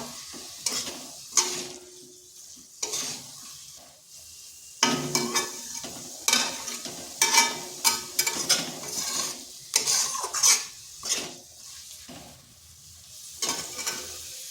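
Cabbage with a pinch of sugar stirred in a hot pan, a spoon scraping and tossing in repeated bursts over a soft continuous sizzle of frying, close up with quiet gaps between strokes.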